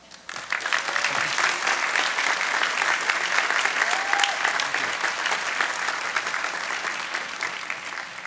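Sustained applause from a large audience welcoming Ben Bernanke at Harvard's Class Day, steady and full-bodied with dense clapping filling the whole stretch, no voices over it.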